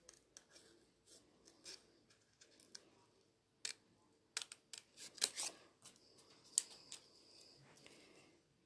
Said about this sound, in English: the secret with fussy cutting is move your paper and not your scissors